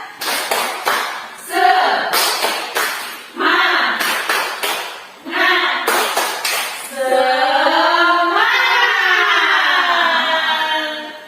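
A group performs a rhythmic spirit clap (tepuk semangat): several bursts of quick, patterned claps in unison separated by short pauses, with voices chanting or singing along, then sustained group singing.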